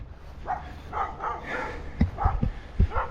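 A dog barks nearby among blackberry bushes on a summer day in Norwich, England, giving several short, moderately loud barks spaced irregularly over a soft outdoor background.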